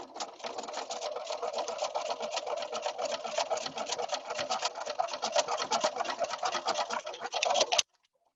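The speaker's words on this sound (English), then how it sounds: "So in order to bring those 2 out of my machine, I'm just going to drop in another 9 patch block." A home sewing machine runs fast and steady while chain piecing nine-patch quilt blocks, a close, even rattling stitch that stops abruptly near the end.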